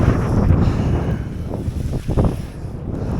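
Strong wind buffets the microphone on Gwynant Lake in North Wales while kayaking, a loud continuous rumble with gusts and faint water lapping.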